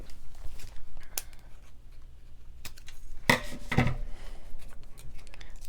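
Scissors snipping through paper at a cardmaking desk, a few sharp crisp cuts with a louder double snip midway, close and fairly quiet against a soft background.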